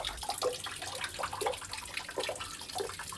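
Spring water pours steadily from the Kaiser Franz Josef spring, a continuous close splashing and gurgling trickle with no voices.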